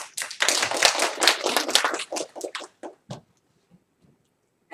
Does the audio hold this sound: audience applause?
yes